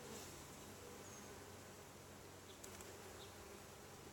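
Honeybees in an opened backyard hive during a summer inspection, giving a steady, dense, close buzz that runs throughout with light rustling and no talk.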